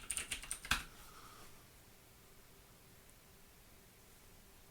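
Brief burst of rapid key presses on a computer keyboard while entering a password, close and quick for about a second, then faint room hiss.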